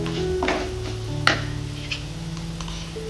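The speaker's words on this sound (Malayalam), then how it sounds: "പിന്നെ ഒരു നുള്ള് മഞ്ഞൾപ്പൊടി നല്ലതായിട്ട് ഇളക്കുക." A pinch of turmeric being stirred into a frying pan while cooking an Idukki-style fish curry, with a steady low sizzle and a few clinks and scrapes of utensil against pan, one sharper knock near the middle.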